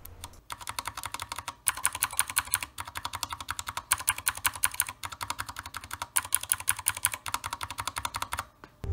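Rapid typing on a mechanical keyboard with modded switches, clicky keystrokes in dense bursts with brief pauses, close and clear with no voices.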